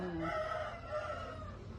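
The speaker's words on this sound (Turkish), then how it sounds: "Bu e, mavi yumurtlayan tavuk." A hen of a blue-egg-laying breed gives a short drawn-out call, fairly close and clear, then a few softer clucking notes over a low background hum.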